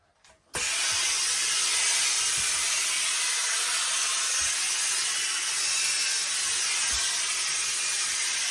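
Steam jets onto a felt Borsalino-style hat being stretched to size, a loud, steady close hiss that bursts on abruptly and holds unbroken, with a few soft low bumps underneath.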